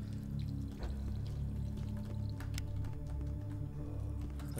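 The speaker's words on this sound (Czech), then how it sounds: "A sprcha, dost dobré, můžu se osvěžit." Shower water runs in the retro first-person shooter HROT, a steady, soft pouring hiss that continues evenly throughout, with no speech over it.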